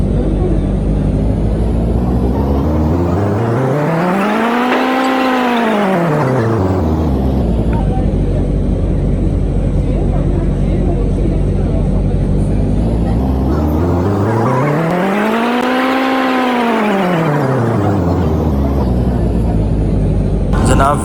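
Road traffic outside Dubai airport, heard from inside a shuttle moving through the airport grounds: a loud, steady engine and road roar with a whining pitch that swells and falls away twice, as if vehicles pass close by.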